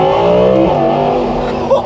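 An Audi R8 V10 Performance engine revs hard under full acceleration on a country back road, a loud, close, rising howl that shifts pitch as gears change.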